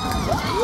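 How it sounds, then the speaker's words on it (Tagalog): A crowd at a basketball game cheers and shouts, a dense roar of voices with excited whoops rising above the din, heard close and continuous. "the crowd is going wild"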